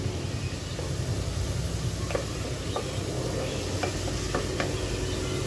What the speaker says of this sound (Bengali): সেখানে আমি যে ইলিশ মাছের মাথা, লেজটা দিয়ে দিচ্ছি। একটু কষিয়ে নিব।